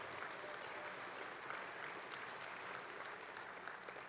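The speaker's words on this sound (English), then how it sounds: "let's give our events team and our facilities team a big round of applause" Audience applause at a closing banquet of an international World War II conference, a steady even wash of many hands clapping that holds for the whole stretch at moderate, slightly distant level.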